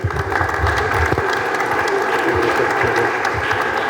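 Audience applause after a lecture on the chronicle, a steady dense clapping from a crowd that fills the whole few seconds at close range.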